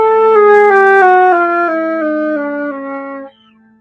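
A solo flute sounds a clear note, then steps down in a slow descending chromatic line and settles on a held low note that fades out after about three seconds. No voices.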